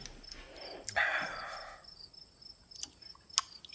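Cricket chirping as a sound effect: a thin, steady, high chirp runs quietly throughout, broken by a few soft rustles and clicks.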